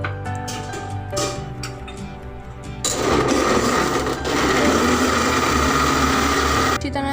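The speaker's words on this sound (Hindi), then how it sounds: "अब हम इसको थोड़ा ग्राइंड करेंगे" A mixer grinder blends milk pack cream with boiled milk for homemade mango ice cream, its motor whirring steadily and loudly, rising to a fuller, denser churn after a few seconds and continuing without pause before it cuts off.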